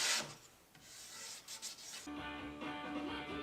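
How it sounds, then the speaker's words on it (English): Quick back-and-forth rubbing as a 100-grit sandpaper block smooths the inside edges of a wooden coffee table frame, close and fairly quiet, with no talking. "I can use that to sand the inside edges of the frame"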